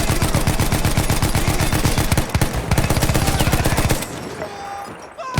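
A Vickers machine gun in the First World War shooter Battlefield 1, Gallipoli campaign, firing a long steady rapid burst of evenly spaced loud shots for about four seconds before cutting off into quieter battlefield noise.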